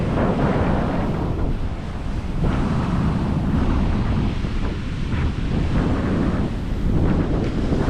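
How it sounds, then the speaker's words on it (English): Steady surf roars beneath gusty sea breeze buffeting the microphone on the American west coast, a loud constant rumble of waves and wind with no voices. "Breeze coming off the ocean."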